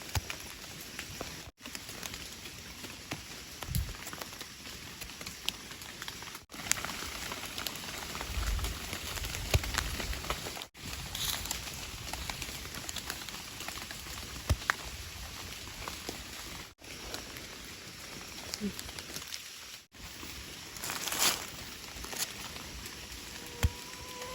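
Steady rain pattering on leaves and ground in a forest during a mushroom-gathering outing, a continuous soft hiss with occasional heavier drops throughout.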